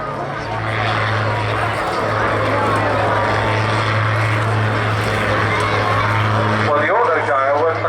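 Steady drone of an autogyro's engine and rotor during descent, loud and continuous with a low sustained hum throughout, while someone talks over it.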